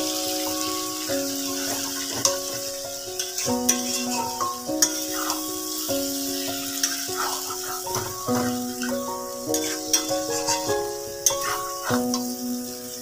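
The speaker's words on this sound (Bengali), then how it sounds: "আমি মেশাবো আলাদা করে ভেজে রাখা পনির।" Fried paneer is stirred in a hot pan, giving a steady sizzle of frying with repeated scraping and clinking from the spoon, close by and with no talk.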